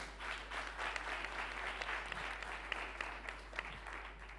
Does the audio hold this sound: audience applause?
yes